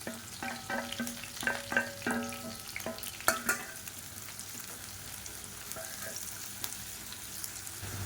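Sliced onion and green chili frying in hot oil in a pan, with a steady sizzle and crackle. Several clanks from stirring come early on, and the frying keeps going alone at close range.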